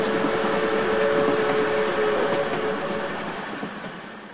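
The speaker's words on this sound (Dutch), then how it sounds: "Een treinbaan van Märklin." A Märklin model railway train runs on a large layout, a steady rolling rumble with faint rail clicks and a thin whistle-like tone, gradually fading as it moves away, with no talking.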